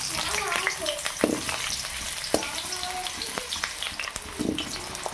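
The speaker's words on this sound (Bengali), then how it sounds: "কিছু সবজি আমি ভেজে নেবো।" Potatoes hit hot mustard oil and sizzle loudly and continuously up close. Occasional clacks and scrapes of a utensil against the pan punctuate the frying.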